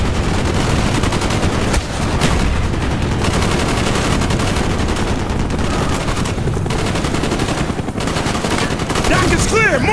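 Sustained automatic machine gun fire from a Call of Duty: Black Ops (2010) battle in a riverside village, loud and dense with continuous bursts over rumbling background combat throughout.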